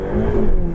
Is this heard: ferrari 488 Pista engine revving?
yes